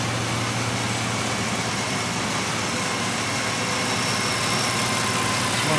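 A car engine idles steadily after its throttle body has been cleaned, a continuous even rumble with a low hum, close and moderately loud throughout, no talking.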